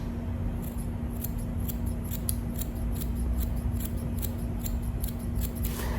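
Scissors cutting through hair extensions held up in a ponytail, a steady run of crisp snips repeating close by with a constant background hum and no talking.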